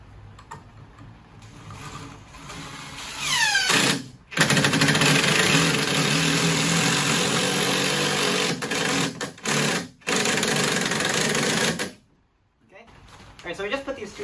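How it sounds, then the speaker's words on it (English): A power driver sinks screws through wooden blocking between floor joists, whirring in long steady bursts that rev up and stop, with short pauses between runs and a final quiet stretch. "we just put these two screws down so that we can secure the blocks as we screwed them in"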